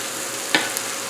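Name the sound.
sliced garlic frying in a pan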